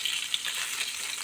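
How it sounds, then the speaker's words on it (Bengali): Stinging catfish pieces fry in hot oil until reddish, a steady, close, fairly loud sizzle and hiss with a few sharper spatters and no talking. "ওই যে শিং মাছ হচ্ছে যে ভাজি হচ্ছে, লাল লাল করে ভেজে নেওয়া হচ্ছে"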